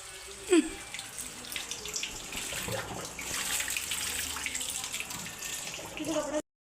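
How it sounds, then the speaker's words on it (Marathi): Water runs steadily from a tap in a home kitchen when the evening supply arrives, a continuous splashing hiss lasting several seconds, close by, with a voice faintly underneath. "तुम्ही बोलाल आवाज कसला येतो, तर आमच्या इथे संध्याकाळी पाणी पण येतं, त्याच्यामुळे आवाज येतो"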